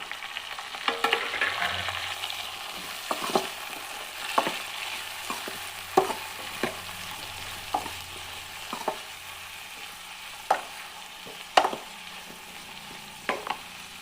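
Green chilies and finely chopped green tomato fry in a pan for a brinjal tomato curry, with a steady low sizzle broken by a run of sharp scrapes and clicks as the mixture is stirred.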